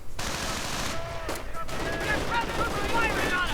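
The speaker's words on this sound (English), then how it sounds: "And a strafing run puts an end to that" A strafing run tears through stormtroopers in a World War II strategy video game, rapid bursts of gunfire and machine-gun chatter with ricochet-like whines, heard at moderate distance under a commentator's voice.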